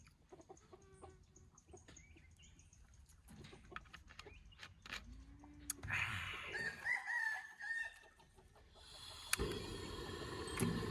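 Outdoors, a rooster crows and chickens cluck, fairly faint and somewhat distant, amid quiet background noise.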